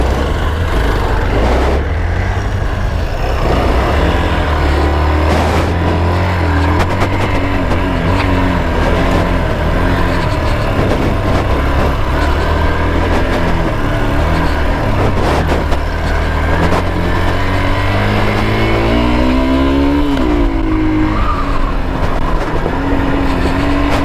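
A Hero X-Pulse 200 motorcycle rides off-road with a loud, constant engine drone and shifting revs that climb and fall, continuous throughout with no talking.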